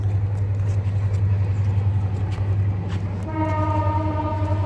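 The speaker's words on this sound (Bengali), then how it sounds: "ট্রেন আছে" A train rumbles past at a hillside, loud and heavy with a deep droning rumble, then its horn sounds in a sustained tonal blast toward the end.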